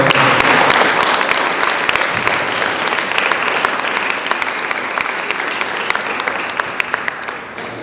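A village gram sabha gathering gives a team director a burst of loud, sustained applause, dense clapping from many hands that tapers a little toward the end.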